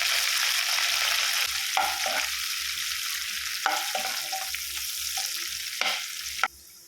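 Mint, curry leaves and fenugreek leaves fry in a pan, a loud steady sizzle broken by several spatula stirs and scrapes, cutting off abruptly at the end.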